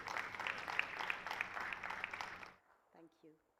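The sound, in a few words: applause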